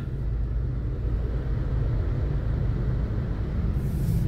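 Steady low rumble of heavy, bumper-to-bumper highway traffic on the Skyway along the South Super Highway (SLEX), Villamor to Magallanes, heard as a continuous dense engine and road drone with no talk.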